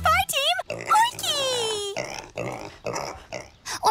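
A voice imitates a cartoon pig, making a run of squealing oinks and grunts in quick, uneven bursts, loud and close.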